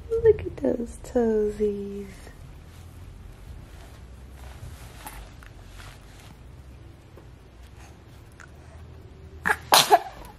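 A newborn baby gives a sharp, close sneeze near the end. An adult voice speaks in the opening seconds, followed by a long stretch of quiet room sound.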